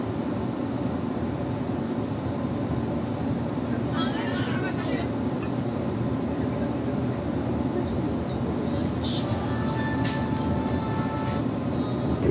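The Tegal Bahari train pulls out of Brebes station, a steady loud rolling rumble with faint squeals and a brief horn-like tone near the end.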